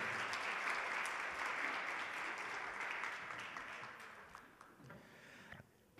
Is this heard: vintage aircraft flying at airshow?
no